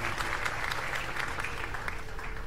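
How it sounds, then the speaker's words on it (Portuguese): A brief burst of steady clapping from a small group during a painting session, dense and even, moderately loud, with no speech over it. "Palminhas."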